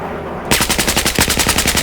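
Video game gunfire breaks out after a brief quiet moment: a loud, rapid automatic burst of evenly spaced shots that keeps going to the end, with no talking.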